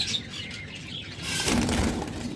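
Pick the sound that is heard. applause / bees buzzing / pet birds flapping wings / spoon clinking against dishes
pet birds flapping wings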